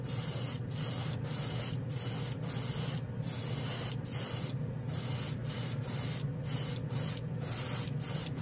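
An airbrush sprays chrome and candy gold paint in short repeated bursts with brief pauses, a steady close hiss throughout and no talking.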